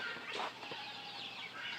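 Chickens in a homestead yard cluck and squawk nearby in short, overlapping calls, with a brief flutter of activity, no talk.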